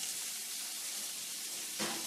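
A pan being seasoned on the stove, giving a steady, hissing sizzle throughout, with a slightly louder crackling flare near the end.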